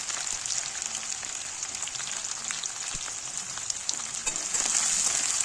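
Chopped onion and green chilli fry in a pan with whole spices like cinnamon and star anise, giving a steady, crackling sizzle at close range that grows slightly louder near the end.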